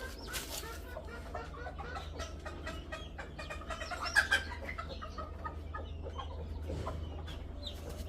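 A black hen clucks in short bursts amid farmyard bustle, with a steady low hum underneath and one louder squawk partway through.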